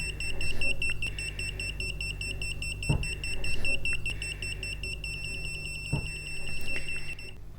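A FNIRSI GC-03 radiation detector sounds its alarm beside a radioactive vintage French clock, giving a steady high-pitched electronic beep that repeats without a break, with a low hum and a few soft knocks underneath.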